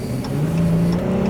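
A 2016 Dodge Challenger V6 of about 305 horsepower with a ZF-design automatic revs hard, a loud, close, steady mid-pitched engine drone rising slightly in pitch across a short burst.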